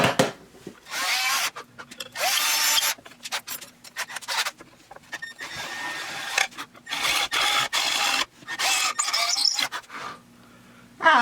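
A drill bores tuner holes through a wooden guitar headstock in repeated bursts, each a loud rasping whir broken by brief pauses, close and with no one speaking.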